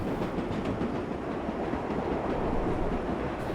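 A New York number 7 local subway train from the World of Subways 4 game runs steadily, a loud continuous rumble and roar of wheels on track with faint clickety-clack throughout, no voices.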